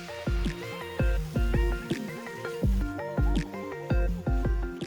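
Thick pav bhaji base being stirred with readymade pav bhaji masala, rhythmic wet squelching and plopping in steady strokes, close and fairly loud with no talking.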